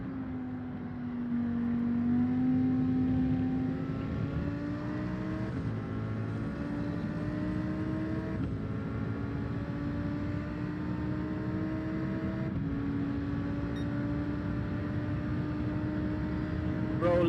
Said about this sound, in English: I'm gonna start doing the Lambo thing now and start doing those quick downshifts.